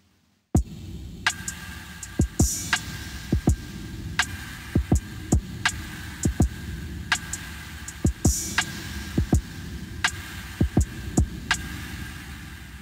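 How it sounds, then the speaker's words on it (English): A synth or instrument tone run through the TAL Reverb 4 plugin with detuned harmonics, heard as a steady swelling pad with regular pulsing hits and a reverb tail that wavers slightly in pitch, with no voices. "let's take a listen to detuned harmonics"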